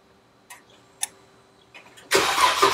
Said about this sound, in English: Push button start on a Jeep.